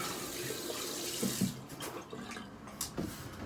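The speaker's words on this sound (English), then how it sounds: "just rinsing out and drying down the brush" A shaving brush rinsed under a running tap, a steady close rush of water with splashy shifts as the brush moves through the stream, no voices.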